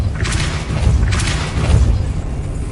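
The Depulso spell is cast twice in Hogwarts Legacy, each cast a loud, deep whooshing blast about a second apart over a continuous low rumble.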